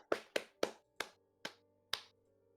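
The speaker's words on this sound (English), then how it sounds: "It's just like the slow fade out of clapping." Six sharp hand claps from a few people, spaced slowly and unevenly, close and fairly loud, then the applause trails off into silence.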